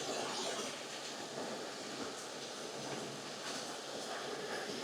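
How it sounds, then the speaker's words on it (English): Steady rushing waterfall of very clear water beside a scree path on a mountain walk on Mull, a constant broadband roar at even level throughout, alone without talk. "The waterfall."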